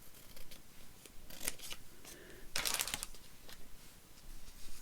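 Scissors snip through paper for a Tim Holtz style bird card collage, a few quiet, close cuts in quick bursts with soft paper rustling between them.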